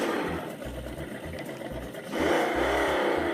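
An RC drag car's simulated engine sound pulses in a low, lumpy idle, then revs up sharply into a rising, buzzy whine, loud and near.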